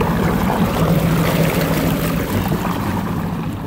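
A sit-down jet ski engine runs rough on bad gas, a loud, ragged churning roar with uneven sputtering, close by over water with no voices.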